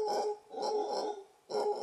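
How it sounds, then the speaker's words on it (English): A howler monkey gives a deep, hoarse, barking roar in three drawn-out bursts separated by brief gaps, heard fairly close and on its own. "Apparently that is a howler monkey."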